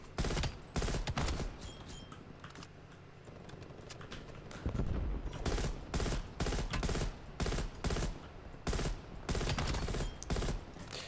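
Gunfire in Call of Duty Black Ops Cold War comes in repeated loud automatic bursts, some short and some sustained, with brief quieter gaps between them.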